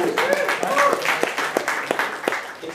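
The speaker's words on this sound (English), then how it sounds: "please give Simbisa Law and Rugero and Luke, who's here, another round of applause for the food" Applause at a Melbourne startup pitch night, a crowd clapping in a steady patter of sharp claps for a few seconds while a voice speaks over it.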